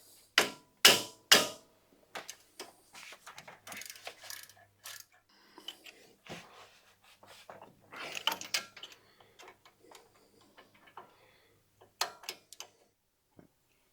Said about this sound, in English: I'm going to hit it with a rubber mallet